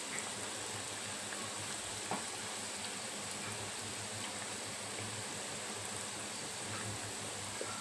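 A second batch of modak, sweet dumplings made from rava and wheat flour, frying in oil over medium heat, a steady close hiss and sizzle with faint bubbling throughout and no talking.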